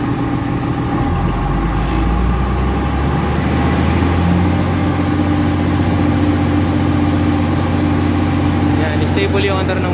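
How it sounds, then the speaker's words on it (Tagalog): A 250 kVA diesel generator engine runs under load with a steady, loud low hum and droning mechanical tone throughout, while people talk over it. "Stable yung under ng makina."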